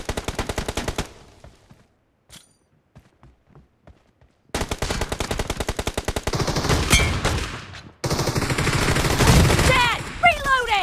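Rapid bursts of automatic gunfire in the BGMI mobile battle royale game, with a dense rattling volley, a near-silent gap, then sustained heavy firing with scattered extra shots, loud and close throughout.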